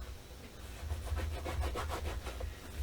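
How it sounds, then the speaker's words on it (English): Paper being burnished around the edge of a mini album book cover, a soft rhythmic rubbing that turns into quick back-and-forth strokes in the middle, close and fairly quiet, with no talking. "And I am burnishing that"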